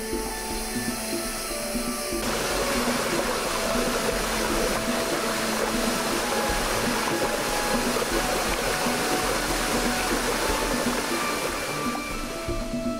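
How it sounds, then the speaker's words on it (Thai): A forest waterfall in Kaeng Krachan pours in a steady, dense rush of falling water, continuous and fairly close, with no voices over it. "จึงเป็นน้ำตกอันดับต้นๆของป่าแก่งกระจานที่นักเดินป่าให้ความสนใจ"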